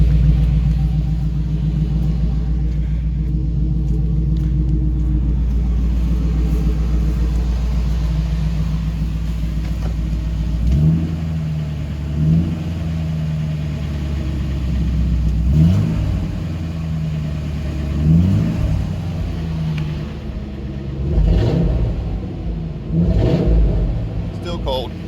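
A 2001 Ford F250 4x4 with a 5.4 V8 and the muffler removed, a loud deep exhaust rumble idling, then several sharp revs rising and falling close by, with someone talking over it.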